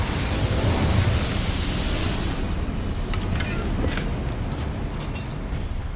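An Incendio fire spell blasts in Hogwarts Legacy as a loud, roaring burst of flame that swells and then trails off, with voices faintly underneath.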